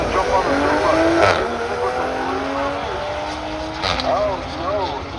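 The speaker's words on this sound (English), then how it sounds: "Little Audi gets a jump on the Supra." An Audi and a Toyota Supra launch side by side at a drag strip, with loud engine roar, rising revs and tire noise close by, while a voice talks over the racing.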